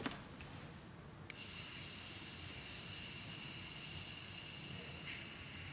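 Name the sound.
compressed air blowing alcohol off a part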